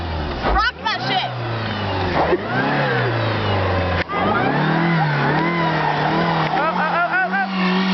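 Car engine revving repeatedly as the car rocks while stuck in snow, rising and falling over several seconds, heard close by under excited voices talking throughout.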